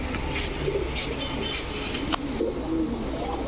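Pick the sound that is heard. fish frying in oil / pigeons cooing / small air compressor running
pigeons cooing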